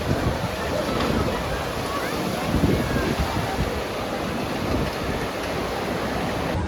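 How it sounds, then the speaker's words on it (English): A refurbished log flume ride at an amusement park rushes through water in a steady wash of splashing and wind noise, loud and close, with no clear talk. "Good to get on the log flume."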